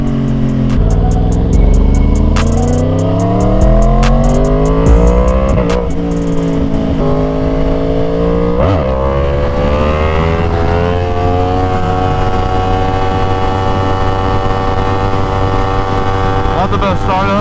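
A rare Yamaha R1 sport motorcycle fires up and revs close by. The engine note climbs and falls in several loud sweeps, then settles into a steady, high-pitched idle.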